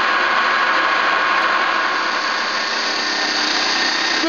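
Giddings & Lewis 5-inch CNC horizontal boring mill spindle spinning at 2200 RPM, a steady loud broadband whir with an even hum that holds constant throughout.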